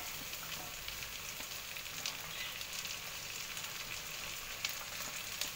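Onion added to a pan of frying garlic and cumin for mushroom masala: a soft, steady sizzle of oil crackles close by, fairly quiet and unbroken, without any speech.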